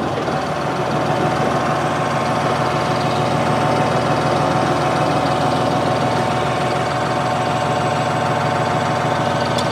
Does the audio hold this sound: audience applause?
no